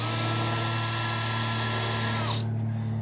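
A power drill runs continuously at a steady high whine while backing screws out of trim pieces on a shed, close and loud. The motor winds down and stops near the end, and no one talks.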